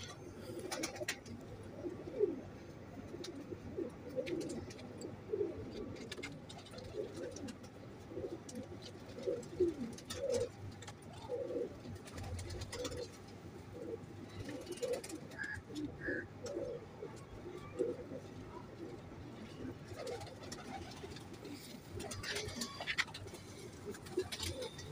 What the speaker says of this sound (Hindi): जी दोस्तों एक ये कबूतर है, माशाल्लाह बहुत अच्छा कबूतर है,